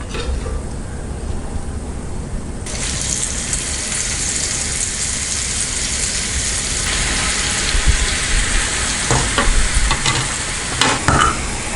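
Omam mullu murukku, a spiral snack dough, deep-frying in hot oil, giving a steady, close sizzle and bubbling that stays loud throughout and grows slightly busier toward the end, with no talking.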